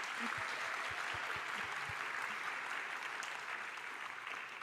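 Audience applause at a welfare conference plenary award presentation, steady broadband clapping from a crowd throughout, fairly even and sustained, thinning slightly toward the end.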